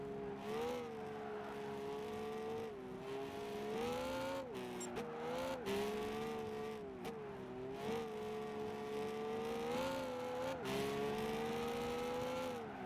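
A race car engine in the Gran Turismo 5 video game whines steadily, its revs rising and dipping with gear changes and brief cuts, loud and continuous with no talk over it.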